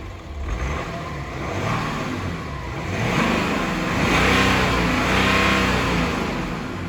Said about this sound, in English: And then let's give it some revs.